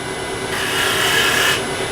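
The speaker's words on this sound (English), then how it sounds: "a little bit of sanding in there" Steady, close rasping as wood is sanded on a wooden tool handle turned on a lathe, a continuous abrasive hiss that swells briefly in the middle.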